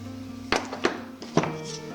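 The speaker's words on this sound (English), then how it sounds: "Bang with the hammer again." A hammer bangs on the clutch of a Yamaha Phazer snowmobile in a workshop, with three sharp metallic impacts spaced unevenly over about two seconds, close and fairly loud.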